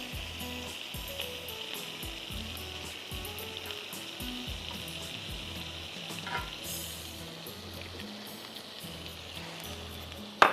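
Chicken sizzling loudly in a pan after one tablespoon of soy sauce is added, a dense continuous frying hiss with rhythmic stirring scrapes underneath.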